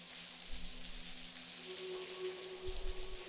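Rain hisses steadily in the point-and-click adventure game The Blackwell Convergence, a soft continuous wash with a low background hum, faint and without voices.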